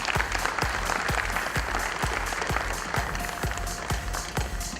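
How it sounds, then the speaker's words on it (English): An audience claps for a panelist at an HR conclave in Pune, a fairly soft, steady round of applause with some distinct nearby claps standing out in a regular rhythm. "A big round of applause, please."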